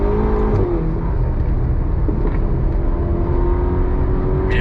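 A Ferrari GTC4Lusso T engine pulls hard under throttle, a loud, rising, continuous engine roar heard from inside the car, steady and close with a brief sharp blip near the end.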